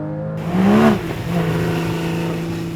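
A Porsche Cayman GTS's 3.4-litre six-cylinder engine revs up sharply to a loud peak, then settles into a steady, droning hum close by, with no talking.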